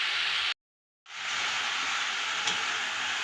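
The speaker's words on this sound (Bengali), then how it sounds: "এটাকে ঢাকা দিয়ে দিয়ে কষিয়ে নেব।" Rohu fish curry with winter vegetables sizzling in a covered pan, a steady close hiss broken by a brief silent gap before it resumes.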